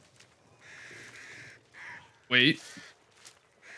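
Crows in the Back 4 Blood video game give harsh caws, with one loud, close caw standing out among fainter calls and background noise, while a person speaks briefly.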